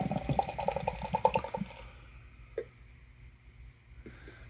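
Dark ale poured into a glass, a close burst of gurgling, splashing liquid for about a second and a half, then fading to quiet fizz with a couple of soft clinks.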